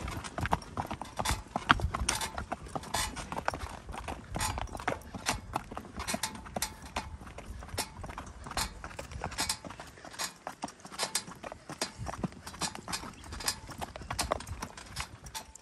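A horse, a shod mare, pulls a buggy over a patch of gravel, her hooves clip-clopping in a steady, close walking rhythm that continues throughout with light rattling behind.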